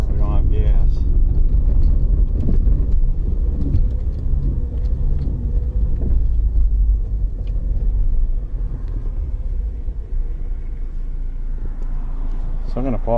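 A 2005 Saturn Ion with a 2.2-liter engine and five-speed manual transmission drives around the block. Low engine rumble and road noise come from inside the cabin, steady and loud, while a person talks over it.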